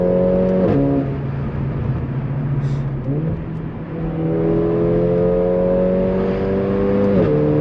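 A Mercedes A45 AMG on KW Clubsport suspension drives down a road, its engine droning steadily and rising in pitch as it accelerates through gear changes, heard from inside the cabin with loud background music.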